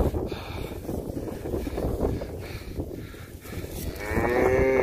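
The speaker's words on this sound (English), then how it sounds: "Nice heifer. Good looking steer." Cattle, a heifer and a steer, mooing on a farm: several loud, drawn-out lows close to the microphone, with wind buffeting in the background and no talking.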